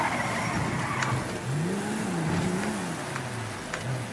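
A car driven through city streets in GTA 5, engine note rising and falling steadily with a continuous, moderately loud drone and a few faint higher clicks, no talking.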